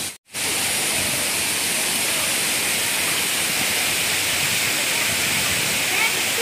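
Water splashes and pours steadily from a water wheel at Nan Lian Garden in Hong Kong, a loud continuous rushing wash heard up close after a brief dropout.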